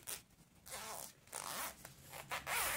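A zipper runs closed along a handmade sewn vaccination-card cover in short, crisp, close-up bursts, with brief pauses between the pulls.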